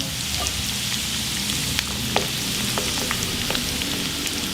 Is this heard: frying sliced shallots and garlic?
yes